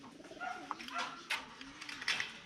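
Homing pigeons coo in a loft of breeders and young birds, a Birmingham Roller setup, their soft rolling calls repeating close by while a faint voice murmurs underneath.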